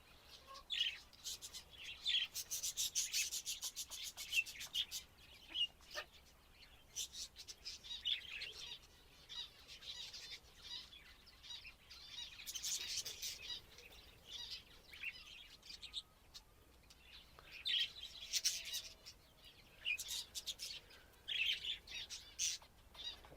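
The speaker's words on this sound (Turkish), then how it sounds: "Tahminim şu anda dışarıda 5-6 tane muhabbet kuşu var." Five or six budgerigars chirp and chatter constantly outdoors in quick, bright bursts, several birds close by with faint flutters, no talking.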